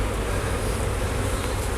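Honeybees swarm over an opened hive, a steady, loud, unbroken buzzing hum with a broad noisy texture, close by and without talk.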